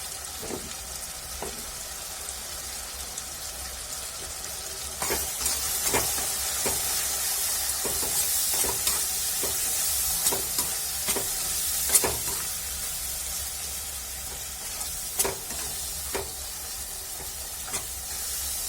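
An onion tadka browns in ghee for a fenugreek and potato curry, a soft steady sizzle and hiss with many irregular clicks and scrapes of a spoon stirring the pan.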